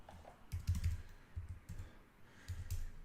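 Close, dry clicking of computer keyboard keys in short irregular bursts, quiet and alone with no voices.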